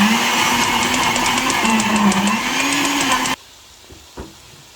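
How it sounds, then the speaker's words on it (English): A blender blending onion and pepper whirs loudly and steadily for about three seconds with a wavering motor pitch, then cuts off abruptly, leaving a couple of faint knocks. "That is what I'm going to use as water to blend the onion, pepper, and whatever."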